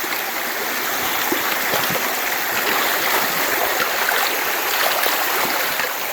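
An Ozark creek flows steadily over rocks and big flat stones along a trail crossing, a continuous bright rushing burble, close and even, with no voices.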